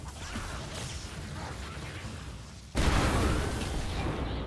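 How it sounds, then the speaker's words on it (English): Explosions in the video game Magicka 2, a sudden loud burst at the midpoint that breaks over a steady rumble of game noise and continues as a dense, booming roar to the end. "Explosions happened."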